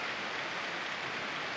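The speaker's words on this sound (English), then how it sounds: "And I'm getting nailed by rain." Rain and wind during Hurricane Sandy in Dover, Delaware, a steady dense roar of driving rain with a broad wind rush, constant and loud without any break or voice.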